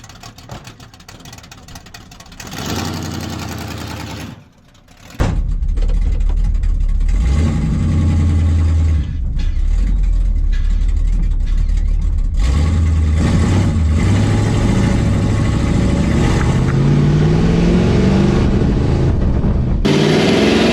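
A 1972 Plymouth big-block 383 V8 cranks, catches and settles into a loud, close rumbling idle, then swells through several revs that rise and fall, with no voices over it.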